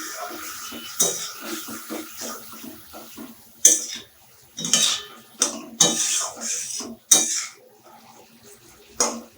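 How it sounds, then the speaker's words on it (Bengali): Water poured into a pan of spiced oil for a Bengali katla fish curry, heard as a run of splashes and sharp metallic clanks that come and go over quiet kitchen background. "একটু জল দিয়ে দিলাম।"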